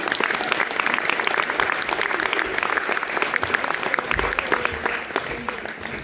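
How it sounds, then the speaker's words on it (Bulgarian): Sustained applause from a crowd at an awards ceremony, dense steady clapping that continues for several seconds at an even level. "изпратете ги с аплодисменти"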